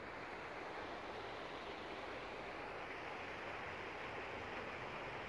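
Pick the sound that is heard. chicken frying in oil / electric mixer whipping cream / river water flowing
river water flowing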